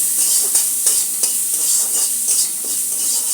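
Food with turmeric and salt being stirred in a pan, a continuous close sizzle with regular scraping strokes of a spatula repeating roughly every half second.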